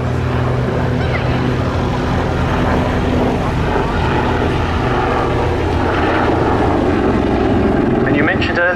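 An Army Lynx helicopter flies at the RAF Cosford air show, its loud, steady rotor and engine drone filling the air while a commentator talks over it.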